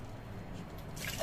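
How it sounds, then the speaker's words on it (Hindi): Water poured into a pot of rice for Schezwan fried rice, a soft continuous trickle and splash at low level, growing slightly louder toward the end. "अब इसमें हम डालेंगे पानी।"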